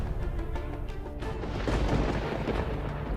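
Thunder and a raging storm at sea in an animated fairy tale roll as a steady, dense rumble with heavy low booms that swell midway and hold without pause.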